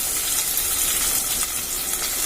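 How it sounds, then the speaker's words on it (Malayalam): Sliced onions hit a hot pan already frying garlic and green chili, giving a steady, bright sizzle that holds evenly throughout with no voices. "ഇനി നമുക്കിതിലേക്ക് നമ്മൾ നേരത്തെ അരിഞ്ഞ് വെച്ച സബോള ഇട്ട് കൊടുക്കാം"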